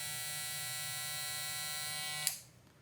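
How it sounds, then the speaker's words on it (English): A Stylecraft Mythic hair clipper with a magnetic motor runs close to the microphone, giving a steady bright high-pitched buzz that cuts off abruptly near the end, leaving a faint hum. "I'll put the Stylecraft Mythic on first, and I'm going to put it next to the mic"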